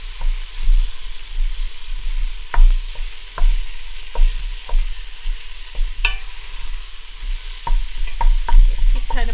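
Italian sausage is broken up and stirred with onions in a pan, giving a steady close sizzle of frying, punctuated by sharp scrapes and clicks of the utensil against the pan.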